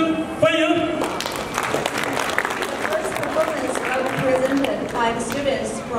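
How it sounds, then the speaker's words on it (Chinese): An audience at a Chinese New Year celebration at the Confucius Institute at UMass Boston claps to welcome a children's dance troupe, a sustained patter of applause that follows a spoken announcement and continues under talk. "大家掌声欢迎。"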